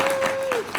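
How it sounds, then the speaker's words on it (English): A short burst of audience applause at an aviation talk, moderately loud clapping with a faint voice briefly heard over it. "So give a big round of applause."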